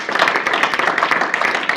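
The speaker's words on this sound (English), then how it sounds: "Give him a big round of applause." A small class claps together at an exercise programming workshop, a short burst of brisk, fairly close clapping lasting under two seconds.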